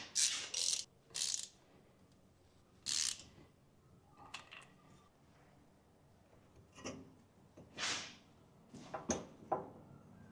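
A ratchet with a 14mm socket tightens nuts on a Toyota Hilux LN167 transmission output flange, giving several short bursts of rapid clicking, close and fairly quiet, separated by pauses with faint handling noise.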